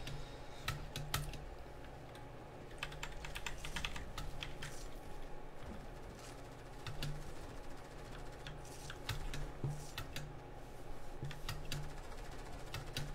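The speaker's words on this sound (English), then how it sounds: "one-handed typing" One-handed typing on a computer keyboard produces irregular, quiet clicking keystrokes in uneven bursts over steady low background hum, with no talking.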